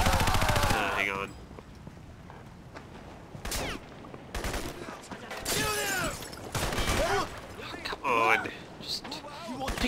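Gunfire in the video game Crysis Warhead, several scattered bursts and sharp shots of varying loudness mixed with game effects, heard under and between lively talking voices.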